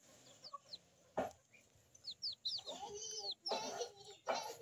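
A hen clucks in short, irregular bursts close by, with chirpy bird calls and a few soft knocks in between.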